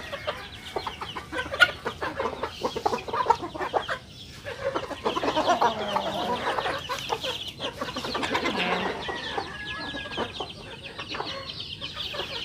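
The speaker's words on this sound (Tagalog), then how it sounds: "Rhode Island Red na mga sisiw saka Black Australorp" Rhode Island Red and Black Australorp chicks chirp and peep continuously in a backyard, a busy overlapping chorus of high cheeps with a few soft clucks, fairly close and with no talk.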